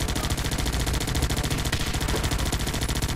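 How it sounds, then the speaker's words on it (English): Rapid, continuous automatic gunfire from squads of soldiers in the strategy game Guns Up!, a dense, loud stream of overlapping shots with no pauses. "How many shots do these guys fire?"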